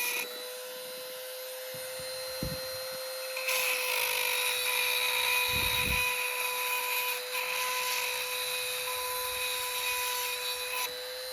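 An electric chainsaw chain sharpener grinding a chain, a steady high whine with a harsh rasping edge that grows louder partway through and keeps going without a break.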